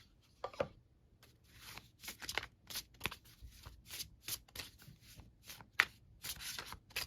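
Tarot cards are shuffled by hand in quick, soft riffling bursts and taps, close and quiet, repeating irregularly with short pauses between.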